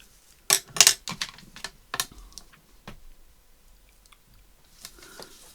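Scissors snipping paper to trim a vintage sewing journal card: a few crisp close cuts in quick succession, then softer sparse snips and rustles, with no talking.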